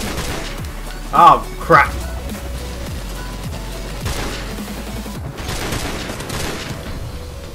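Gunfire in the Call of Duty: Modern Warfare one-gun free-for-all mode, heard as two sharp bursts in close succession followed by fainter distant shots, with someone talking over the game audio.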